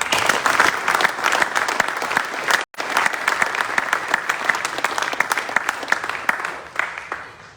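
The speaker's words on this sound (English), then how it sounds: "Please join us in a round of applause for all others who have contributed to this year's event." Sustained applause from a large audience honoring contributors at a competition event, dense clapping with a brief abrupt gap near the middle, then continuing steadily and tapering slightly at the end.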